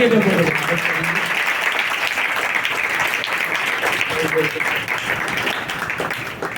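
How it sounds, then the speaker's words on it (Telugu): A church congregation at a fasting prayer service claps together in praise, a dense, sustained round of applause with voices calling out beneath it. "परमेश्वर की तालियां बजाते हुए"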